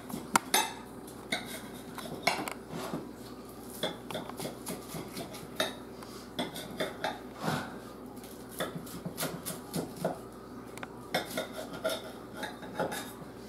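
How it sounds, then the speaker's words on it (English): A knife and fork click and scrape against a plate as a chicken burrito is cut into slices, with close, irregular taps and clinks spread across the stretch and no talking. "Now, you can actually cut it in slices."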